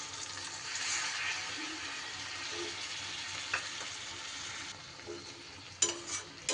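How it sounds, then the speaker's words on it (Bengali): A paste of poppy seeds and green chillies, loosened with a little water, is being stirred into a sizzling frying pan for a green tomato dish. A soft, continuous fry hiss is heard with a few light scrapes and a clink near the end. "ভালো করে মিশিয়ে নিচ্ছি।"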